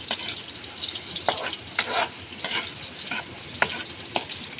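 Onion and garlic frying in a pan for simple pork adobo, stirred as they brown: a continuous close sizzle broken by repeated scraping strokes of the spoon in a loose rhythm, with no talking.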